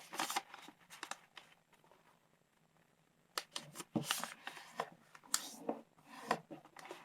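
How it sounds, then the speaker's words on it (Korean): Paper being creased and flipped while folding origami for a crane memo holder, with soft rustles and sharp crisp folds in irregular bursts, close and fairly quiet with no speech. "그대로 뒤집으셔서 사각으로 접어주세요"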